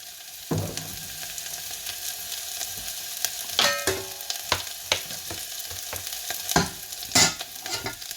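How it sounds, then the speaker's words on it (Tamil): Mustard, cumin and fennel seeds sautéed on the stove, with crackling sizzles and repeated sharp clacks of a spatula stirring in the pan, close and fairly loud. "சின்ன சீரகம் கொஞ்சம் பெருஞ்சீரகம் அடுப்பில் வச்சு வதக்குறேன்"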